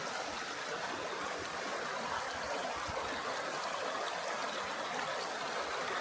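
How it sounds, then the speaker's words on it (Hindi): A mountain meltwater stream in Tajikistan rushes steadily, a dense, even hiss of flowing water that stays constant and close throughout with no other sounds. "और ये यहाँ से नेचुरल पानी"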